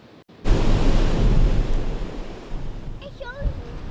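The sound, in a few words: roaring ocean waves and wind during hurricane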